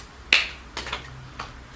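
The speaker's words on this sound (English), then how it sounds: "Clap your hands." A few separate hand claps during a seated keep-fit exercise class for people over 70: one sharp, fairly loud clap followed by three softer ones spaced apart in a quiet room.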